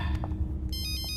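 A cellphone beeps during a security check, with a steady electronic tone pattern repeating over a low rumbling background.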